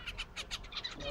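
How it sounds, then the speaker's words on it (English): A newborn baby bird gives a rapid run of high, thin chirps, about eight pulses in quick rhythm, close and moderately loud over a low background hum. "newborn baby bird"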